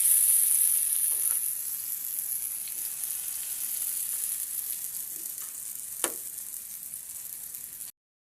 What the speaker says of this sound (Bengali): তাওয়াটা আমার গরম হয়ে গেছে, ছোটো ছোটো করে